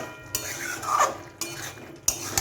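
Shola kochu (taro) curry with ghee is mixed in a pan, with several crisp metal spoon clinks and scrapes against the pan and a faint simmer underneath, close up and with no talking.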